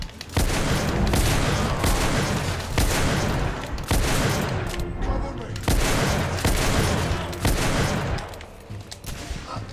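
An enemy's gun in The Order: 1886 fires a heavy volley of loud, booming shots, about one every one to two seconds, with no letup.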